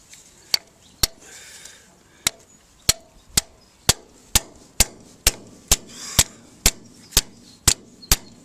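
A screwdriver is hammered into a stuck part on a John Deere B tractor, giving a series of about sixteen sharp, loud metallic strikes at an irregular, roughly steady pace, close up.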